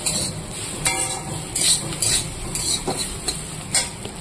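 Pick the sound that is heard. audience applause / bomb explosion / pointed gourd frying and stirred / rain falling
pointed gourd frying and stirred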